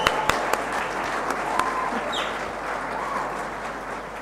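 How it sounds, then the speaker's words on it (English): Audience at a graduation ceremony applauding, a continuous even wash of clapping with a few sharper claps near the start, moderately loud and steady to the end. "can I please just have a round of applause for CICIPO and all those names she just called out?"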